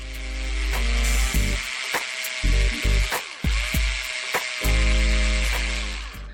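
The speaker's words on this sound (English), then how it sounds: "Again, drill slowly to make an initial dent." A small drill whines in short bursts, drilling slowly into a resin model kit part, starting and stopping repeatedly, its high motor tone dipping as it slows between runs.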